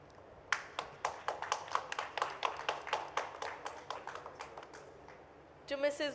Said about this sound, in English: Let's have a huge round of applause to Mr.